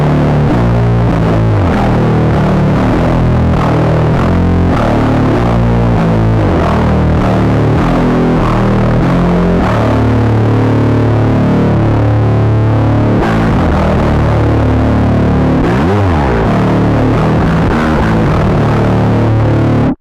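A heavy, gritty distorted bass riff in a classic black metal tone plays loud and continuous, thick and dirty-toned with a steady driving rhythm.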